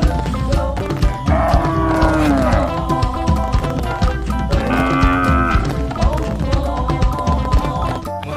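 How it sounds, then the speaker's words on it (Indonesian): Cattle moo in a loud, busy mix of toy-like cartoon sounds, with two long drawn-out lowing calls rising and falling near the start and middle, over continuous background music and tapping. "Wow, ternyata ada sapi juga nih, teman-teman."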